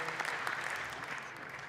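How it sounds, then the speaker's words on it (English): Applause at a handball awards ceremony in Vienna, a short burst of many hands clapping from an audience at moderate distance, fading slightly toward the end. "Big applause."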